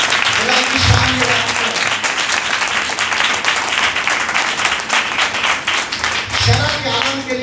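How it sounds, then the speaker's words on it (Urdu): A congregation at a Friday church service claps loudly and steadily in a dense wash of hands, with a voice briefly heard at the start and end. "واہ خدا کے لیے زوردار تالیاں بجائیں."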